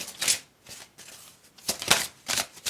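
Large tarot cards being shuffled by hand, a series of quick papery riffles and rustles in short bursts with brief pauses between them, close and fairly soft.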